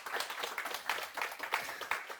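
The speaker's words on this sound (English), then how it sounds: "So please welcome Mo with a warm applause" Audience applause at a seminar on developments in Hong Kong, a steady, moderately distant patter of many hands clapping continuously without any talk.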